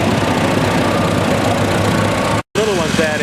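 A Farmall B tractor idles at a vintage tractor show, its steady mid-pitched engine rumble running continuously and fairly loud, broken only by a brief gap near the end, with some crowd noise and a voice mixed in.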